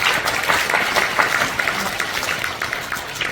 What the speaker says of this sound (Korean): 우리 박수로 우리 부모님을 한번 격려할 수 있었으면 좋겠다는 생각합니다.